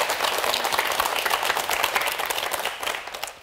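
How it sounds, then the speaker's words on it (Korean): A studio audience applauds a professor's health lecture in a broadcast setting, with continuous dense clapping from a crowd that holds steady and then begins to taper off at the end, with no voices over it. "그럼 교수님의 강의 박수로 좀 청해 볼까요?"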